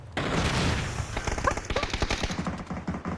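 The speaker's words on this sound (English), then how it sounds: "Gladiator gets shot in the back by Bolivia" Rapid automatic gunfire rattles in a battle video game scrim match, a loud burst of closely spaced shots followed by choppier, uneven volleys fading toward the end.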